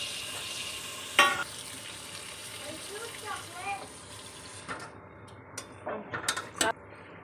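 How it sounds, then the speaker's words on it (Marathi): Mutton goes into a pan of black masala curry and cooks with a steady low sizzle and scattered clinks and scrapes of stirring, fairly quiet and close. "आता मटण घालते मी याच्यात."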